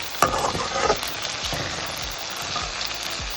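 Two cut garlic cloves frying in a pan for an eggplant gravy, with a loud close sizzle and a few sharp scrapes of stirring early on, then an even, steady crackle.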